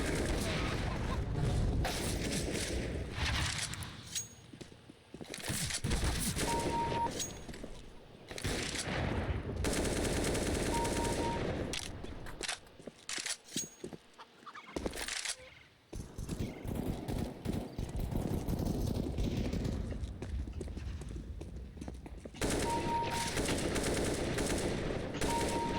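Bursts of shooting with rapid clustered shots, loud volleys broken by short pauses, repeated in several rounds, with faint tonal sounds between them.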